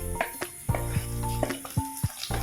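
Tomatoes go into hot oil with cloves and cardamom in a home kitchen, frying with a soft sizzle broken by a series of sharp utensil clanks and scrapes over a low steady hum.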